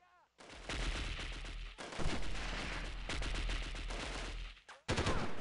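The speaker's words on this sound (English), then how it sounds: "I'm getting shot at." Rapid gunfire in the tactical shooter video game Delta Force, loud bursts of automatic fire with short gaps, nearly continuous and close, with brief speech at the start.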